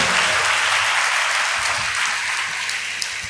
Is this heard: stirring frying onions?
no